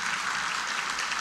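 A church congregation claps together in a dense, even patter of applause, moderately distant and steady throughout with no clear speech.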